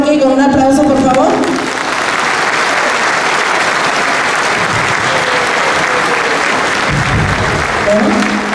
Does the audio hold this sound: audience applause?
yes